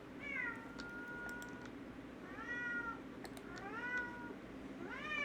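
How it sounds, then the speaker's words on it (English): A house cat meows repeatedly, four drawn-out, rising-and-falling calls spaced a second or so apart over a low steady hum, fairly close but soft, with no talking. "I hear you, cat."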